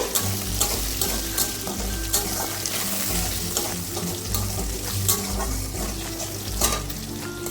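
Slit green chillies and salt sizzle in a pan while a spoon stirs them, in the early stage of a vegetarian banana flower ghonto with Gobindobhog rice. A continuous hiss runs under repeated clinks and scrapes of stirring.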